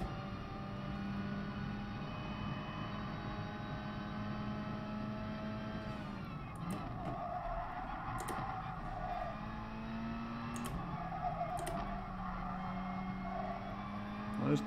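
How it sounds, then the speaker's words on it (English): Race car tyres sliding and squealing during an online Gran Turismo Sport FIA Nations Cup race, heard as thin wavering squeals over a continuous droning engine note. "Those tyres, they really go, don't they? You know, you can hear them sliding there now"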